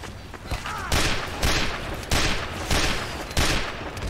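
Weapon fire in Team Fortress 2, a series of loud blasts repeating roughly every half second to second, each with a sharp attack and short decay, close and prominent with no talk over them.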